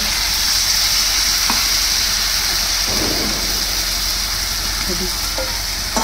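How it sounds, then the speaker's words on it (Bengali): Water being poured into a pan of sizzling spice paste while making shukto: a loud, constant roaring hiss that fills the whole stretch, with a few faint knocks and clatters under it and no talk. "এবার জল দিয়ে দিচ্ছি বন্ধুরা, মশলা ধোয়া জল।"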